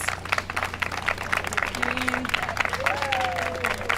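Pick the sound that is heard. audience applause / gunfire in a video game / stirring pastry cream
audience applause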